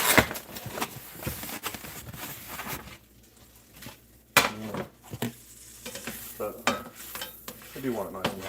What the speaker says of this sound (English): Lots of butter, lots of butter. Okay, time for the eggs.